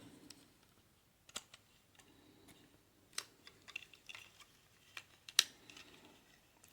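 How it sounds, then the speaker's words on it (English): Plastic parts of a custom Transformers Siege Voyager Class Thundercracker toy clicking into place, a scatter of small sharp clicks and ticks at irregular intervals, close and fairly faint against a quiet room. "Click these back into place."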